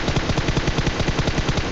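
Rapid automatic gunfire from the mobile battle-royale game PUBG Mobile, a dense rattling burst of evenly spaced shots, loud and continuous with no talk over it.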